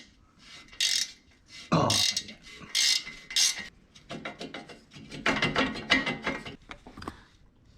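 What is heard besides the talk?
ratcheting wrench removing exhaust nuts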